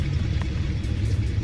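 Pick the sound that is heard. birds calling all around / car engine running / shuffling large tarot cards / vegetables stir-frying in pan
car engine running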